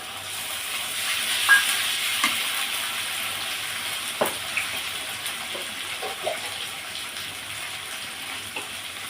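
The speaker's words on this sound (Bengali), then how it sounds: "দেখুন, আমি পেঁয়াজটা বাদামি বাদামি করে ভেজে নিয়েছি। এবার মশলাটুকু দিয়ে দেব।" Spices hitting browned onions in a hot frying pan give a steady, close sizzle, with scattered light clinks and stirring scrapes over the hiss and no talk.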